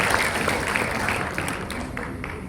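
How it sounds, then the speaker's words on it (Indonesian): Applause from a church congregation during a Christmas service, a steady wash of many hands clapping throughout, fairly even and sustained. "Sekali lagi tepuk tangan buat Tuhan"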